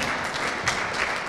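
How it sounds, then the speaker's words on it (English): An audience claps for a graduate at a graduation ceremony at a mine, a brief steady wash of applause at moderate volume with no voices over it. "round of applause for Peter."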